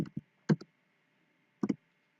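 A few isolated clicks come in small clusters with quiet gaps between, sparse keystrokes tapped on a computer keyboard while entering an Excel formula.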